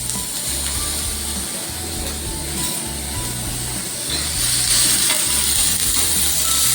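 Onion frying in ghee with a little oil on a griddle, with a steady close sizzle and crackle throughout and faint mechanical ticking, no one talking.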